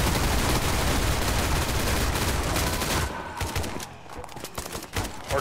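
Guns fire in a Roblox zombie game: dense, loud, continuous rapid gunfire for three seconds, then sparser, scattered shots and bursts.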